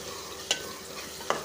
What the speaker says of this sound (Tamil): ஒரு 2லேருந்து ஒரு 3 நிமிஷத்துக்கு இந்த பச்சை ஸ்மெல் போகிற அளவுக்கு வதக்கி விடுங்க.